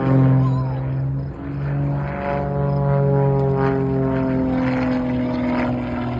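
A propeller airplane hums steadily while pulling 3 to 4 G aerobatic maneuvers at a WWII weekend at Reading Airport, a loud continuous engine drone with shifting pitch, heard from on board.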